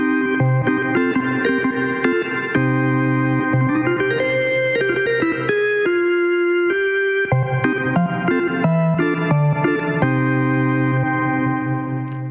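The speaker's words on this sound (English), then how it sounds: "Now, let's go to organs." Organ presets on an Arturia Analog Lab Pro synth play sustained, loud chords and single held notes with chorus and reverb, changing voicings every second or two.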